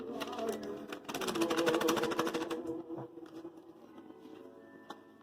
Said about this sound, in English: I'm going to get my butter going in the KitchenAid.